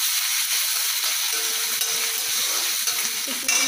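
Garlic and ginger paste frying in a pan for aloo gobhi, a loud, continuous crackling sizzle held close and steady from start to finish.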